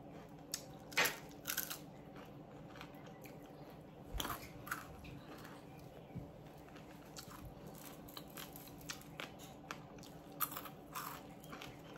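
Someone eats crunchy fried fish at close range, biting and chewing with repeated crisp crunches and crackles in an irregular rhythm over a quiet background.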